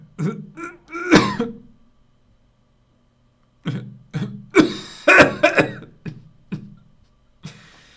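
A man clears his throat repeatedly, loud and close: two harsh bursts, a pause, then a rapid run of rasping hacks and grunts, with no talking.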